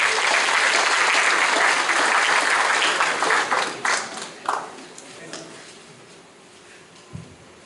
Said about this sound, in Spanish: Por favor, reciban con un fuerte aplauso al licenciado Clímaco Martínez González